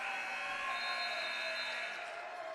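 A long, steady buzzer sounds at the end of the first half of a women's college basketball game between Averett and Roanoke, droning for several seconds over faint arena crowd noise.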